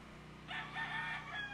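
Chicken or rooster in a truck yard, with goats and sheep nearby: a single crowing call starts about midway and carries to the end over steady low outdoor background hum, moderately close.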